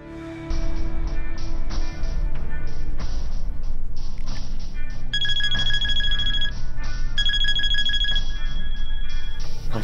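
A cell phone rings loudly and continuously with a bright electronic melodic ringtone, repeating chiming phrases over a low movie-scene background.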